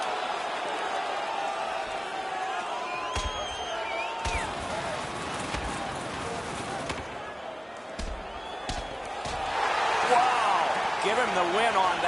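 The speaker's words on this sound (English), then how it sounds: "You can hear the crowd." Crowd noise fills a hockey arena after a fight in a Washington Capitals versus St. Louis Blues game, a steady distant roar that swells louder near the end, with a few thuds and a commentator's voice over it.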